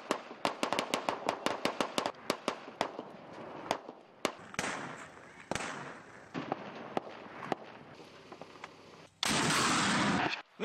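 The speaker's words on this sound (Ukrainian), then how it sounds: "Наші десантники мають використати британські гранатомети NLAW." Rapid series of sharp cracking bangs, dense at first then spaced out, followed by a loud sustained whooshing burst near the end as a British NLAW anti-tank missile launcher fires.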